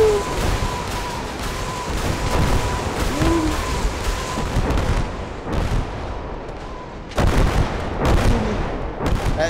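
Artillery and gunfire in the WWII strategy game Call to Arms: Gates of Hell, with Sherman tanks nearby: repeated heavy booms and sharp cracks over a rumbling battlefield, louder bursts clustering toward the end, no talking.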